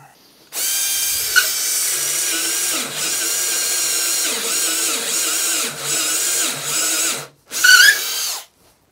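A cordless power drill with a sharpened bit bores into wood for a workbench build, whining steadily for several seconds, pausing briefly, then giving a short final burst, loud and close with no talk.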